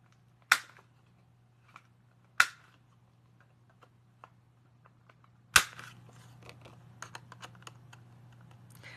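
Corner rounder punch clipping paper card corners at a scrapbooking craft table, three sharp clear snaps spaced a couple of seconds apart, then lighter clicks and handling rustles over a steady low hum.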